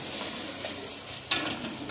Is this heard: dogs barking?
no